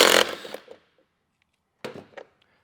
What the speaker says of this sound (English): So to take the blade off, it's just an 18mm socket, and it's the normal thread.